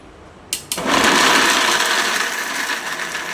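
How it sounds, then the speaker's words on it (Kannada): A kitchen mixer grinder starts up and whirs loudly and steadily, grinding masala for a brinjal gravy after a brief click and spin-up, running alone without talk. "ಇದನ್ನು ಇವಾಗ ಗ್ರೈಂಡ್ ಮಾಡ್ಕೊತಾಳೆ ಮಿಕ್ಸಿಲಿ ಹಾಕಿ"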